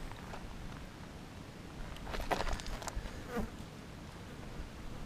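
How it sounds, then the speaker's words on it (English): Bees buzz steadily at close range around a blooming desert cactus, a continuous low drone with a few louder swells as one passes nearer. "Hear the bees over here."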